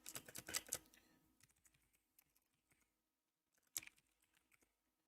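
Loud, clicky computer keyboard typing in a dense burst of rapid keystrokes, thinning to scattered taps, then a short sharp flurry of clicks before it trails off again.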